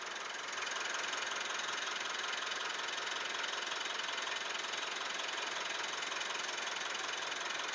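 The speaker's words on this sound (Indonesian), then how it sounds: "Mari kamera kita lihat mesinnya dan dengar suara mesinnya." A 2020 Mitsubishi Pajero Dakar 4x2 automatic engine idles steadily and evenly at close range, a constant low rumble with a faint rhythmic knock, no voices.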